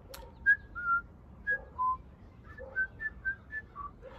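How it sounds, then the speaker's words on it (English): A person whistles a bright, bouncy tune in short separate notes, clear and close, with small pauses between phrases. "They were whistling while they were on their way home."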